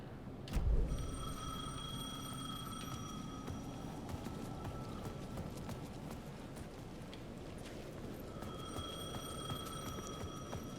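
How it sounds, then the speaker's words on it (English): A payphone rings in a video game, two bursts of ringing about six seconds apart over a steady low background hum, with no one speaking. "The payphone at the edge of the plaza was ringing again."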